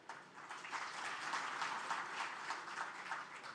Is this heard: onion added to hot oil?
no